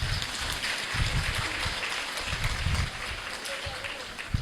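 Audience applause at a Hindi-language talk, a steady broadband patter of clapping that runs loud and continuous through the whole stretch with no voices over it.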